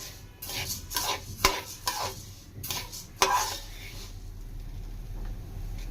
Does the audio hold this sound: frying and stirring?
yes